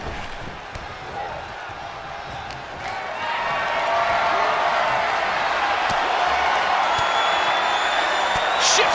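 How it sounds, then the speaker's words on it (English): A large wrestling crowd in WWE 2K23 roars and cheers continuously, swelling louder midway into a dense, sustained wall of noise with scattered whistles. "The sound of this crowd is deafening, and he's asking for more."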